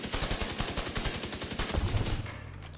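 Rapid bursts of automatic gunfire from a Division 2 shooter match rattle in quick succession, loud and close, ending with a low rumbling tail.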